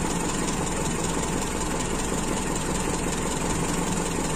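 A Toyota Kijang Super carburetor engine idles during an air bleeder test, a steady low rumble with a uniform rhythmic pulse, close and constant throughout, with no voices.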